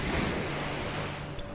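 Sea waves wash steadily onto a sandy beach in a continuous soft roar with a light breeze, heard alone at moderate level with no voices.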